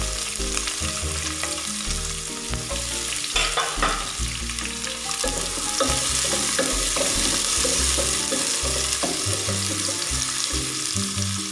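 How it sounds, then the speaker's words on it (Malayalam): Sliced onion and cinnamon sizzle loudly in hot oil in a pan for Kerala-style beef biryani, a steady close frying crackle with occasional stirring scrapes and no voices. "പട്ട ചേർത്ത് കൊടുത്തതിൻ്റെ കൂടെ തന്നെ ഒരു സവാള ഇരുന്ന് ചേർത്ത് കൊടുക്കും"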